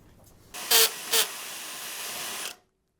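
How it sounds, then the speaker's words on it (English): A power drill bores through a Jeep TJ steel cross member, giving a steady two-second whine with two brief louder surges before it cuts off abruptly. "The cross member seems like it's going to drill a lot faster than the frame rail."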